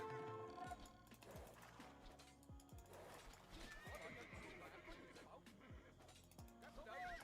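Horses neigh and whinny amid hoof clip-clops and battle clatter in a strategy video game, with several whinnies and a dense, busy mix of game effects throughout.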